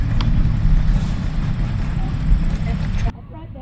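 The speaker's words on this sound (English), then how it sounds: "The tractor's leaving on the truck." A truck hauling an antique Farmall tractor drives off, a loud low engine rumble close by that cuts off abruptly after about three seconds.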